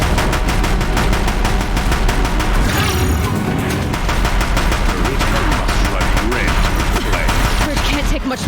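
Heavy machine-gun fire from Deathbringer machines in the video game Horizon Zero Dawn, a loud continuous rapid barrage with rumbling impacts throughout, dense and unbroken.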